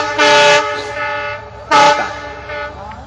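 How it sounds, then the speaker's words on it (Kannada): A departing train sounds its horn in two loud, long blasts, with fainter horn notes between them and the rumble of rolling cars underneath, close by and without speech. "ನೋಡ್ರಿ ಟ್ರೈನ್ ಹೊಂಟಾವ ನೋಡ್ರಿ"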